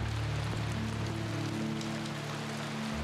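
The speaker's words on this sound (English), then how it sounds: "It's all rainy and dark and gloomy and everything." Steady rain in the video game Eastward, a soft continuous hiss of falling drops at low volume, alone with no voices, over a low droning hum.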